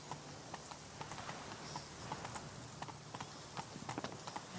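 Roach, a horse in The Witcher video game, gallops with steady clip-clop hoofbeats close by, the rhythm quickening toward the end, under a faint wash of ambient game sound.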